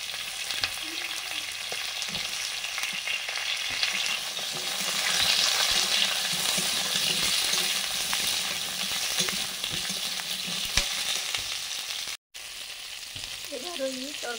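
Eggplant, potato and sweet potato sizzle in hot oil with five-spice, a steady close crackle and hiss with occasional stirring scrapes, briefly cut near the end, with a few soft voice sounds.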